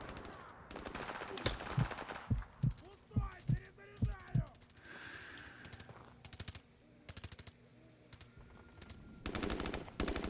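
Gunfire in the video game Call of Duty 4: Modern Warfare Remastered, with rapid evenly spaced shots forming a short burst, then scattered single cracks and later shots over background game noise.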